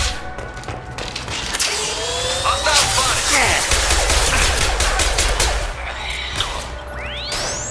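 Gunfire in the game Mass Effect, a dense run of rapid shots and crashes with a sci-fi combat mix underneath, loud and continuous throughout.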